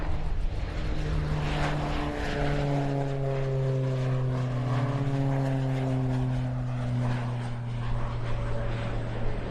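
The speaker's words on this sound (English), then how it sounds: "Here are a pair of Heritage Schemes T-6 Texan IIs from the 89th Flight Training Squadron at Shepherd Air Force Base. Okay, departing." A pair of T-6 Texan II turboprop trainers from the 89th Flight Training Squadron at Sheppard Air Force Base depart, a loud, steady propeller and engine roar with pitch slowly sliding as they pass.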